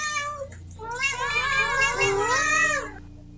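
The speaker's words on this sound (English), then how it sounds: "we got cat noises." A cat meowing in the video game Otogirisou, a drawn-out, wavering caterwaul lasting a few seconds, loud and close, with a short chirp just before it.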